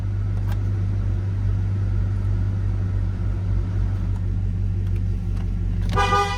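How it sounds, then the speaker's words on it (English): A 2006 GMC Sierra 1500 regular cab pickup with a 5.3L V8 sounds its horn in one short, loud honk near the end, over a steady low idling rumble. "Horn."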